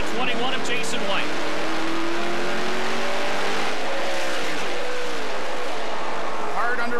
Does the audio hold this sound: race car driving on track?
yes